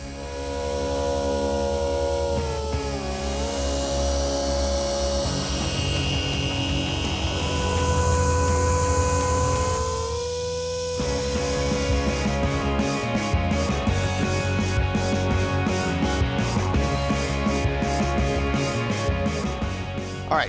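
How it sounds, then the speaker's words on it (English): A polishing buffer works the paint on the hood of an old IROC Camaro, a loud, steady motor whine that shifts pitch and drops out briefly, with rubbing and scraping texture, close up and without talking. "when he's using the buffer, it can go over like on the emblem where he is now"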